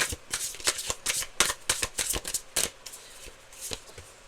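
Rapid, crisp riffling of a tarot card deck, a quick run of papery flicks and slaps close by, with no voices.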